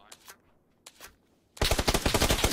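Heavy automatic gunfire in PUBG on console erupts after a couple of brief quieter bursts, becoming a loud, dense, rapid stream of shots that fills the second half.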